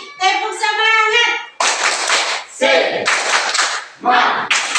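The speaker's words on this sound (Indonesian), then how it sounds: "Lagi, tepuk semangat." Another round of tepuk semangat, a group spirit clap at an Indonesian teacher training session: a spoken cue, then loud, rhythmic clusters of hand claps separated by short shouted group calls.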